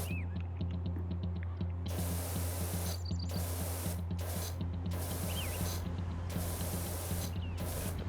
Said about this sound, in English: and then a second spray the other way.